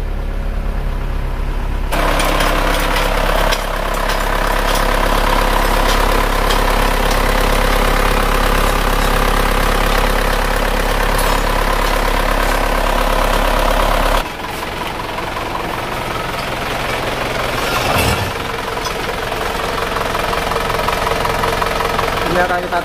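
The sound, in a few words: Isuzu Panther diesel engine idling after rebuild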